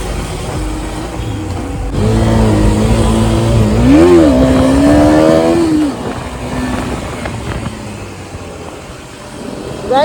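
A motorcycle revs up for a small wheelie on a mountain road trip, its engine note rising and swelling loudly for a few seconds before easing back to a steady ride hum with wind noise.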